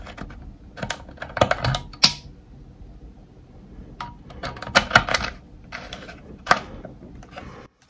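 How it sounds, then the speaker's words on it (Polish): A Coca-Cola bottle being opened close up makes a run of clicks, cracks and plastic creaks from the cap, followed by short hissy bursts of escaping gas, each sound separate with no voice. "ale na pewno będzie słychać dźwięk otwierania i ulatniającego się gazu."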